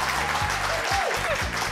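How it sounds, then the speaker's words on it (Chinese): Audience applause ringing out on a Taiwanese variety show during a cooking segment, steady broadband clapping throughout with a low musical bed and faint voices underneath. "你为什么到现在早就应该要有掌声了，是不是？"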